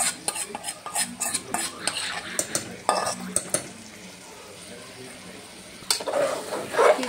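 Dry chicken pieces, cooked without water, are stirred in a pan with a spoon, producing repeated scraping strokes over a soft sizzle. The scraping comes in bursts, then eases into quieter frying before a final flurry of stirring.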